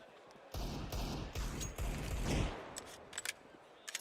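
Desert Eagle pistol fire in Counter-Strike during a HellRaisers match on Cache, a rapid burst of heavy booming shots over about two seconds, then sparse clicks and light clatter.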